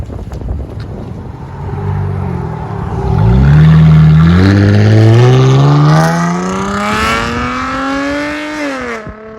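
A Dodge Challenger V8, close and loud, rumbles and then revs, pitch climbing smoothly and holding high before easing back, with wind buffeting the mic throughout.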